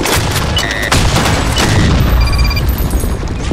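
Rifle gunfire in the online shooter game BlackShot: loud, rapid bursts of sharp shots with booming impacts, followed by tonal game sounds and a fading tail.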